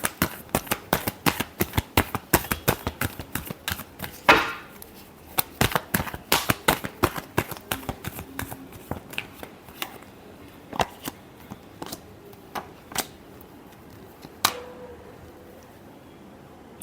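Tarot cards shuffled by hand in a long run of crisp, rapid riffling clicks, dense at first and thinning to scattered single snaps near the end, close and fairly loud with no talking.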